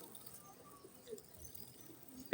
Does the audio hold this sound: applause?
no